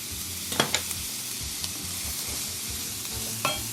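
Smashed, chopped garlic sizzles in a hot pan and gets tossed around for a yellow chicken dish, with a steady frying hiss broken by a few sharp scrapes and clicks of the utensil, close up with no voices.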